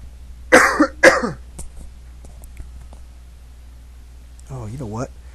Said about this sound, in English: I just realized I can mute my microphone when I cough